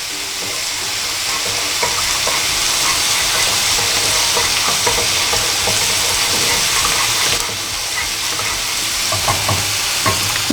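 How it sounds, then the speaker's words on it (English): Butter sizzles and crackles steadily in a hot pan as the base of a prawn risotto gets started, with faint stirring and kitchen clatter mixed into the continuous frying hiss. "So we'll let the butter heat up a little bit."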